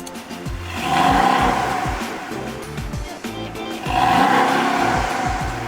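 A Porsche 718 Cayman engine, rated at 300 horsepower, roars as it starts, then revs in two loud surges separated by a brief dip, close and clear with no talking over it.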